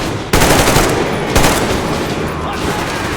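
Gunfire in the video game Metro Exodus, loud bursts of automatic shots firing close up, with two sharp onsets and continuous rapid fire between them.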